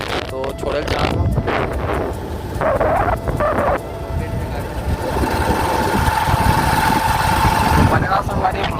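A motorcycle engine runs steadily on a road trip, a continuous drone under wind buffeting and someone talking over it, with brief bursts of louder noise.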